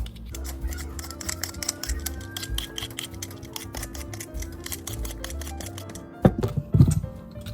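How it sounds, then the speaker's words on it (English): Sweet potatoes are peeled by hand with a peeler, a rapid series of soft rasping scrapes in a steady rhythm over a low hum, close up, ending in a couple of louder knocks, with no talking. "the first thing I want to do is start peeling all of my sweet potatoes"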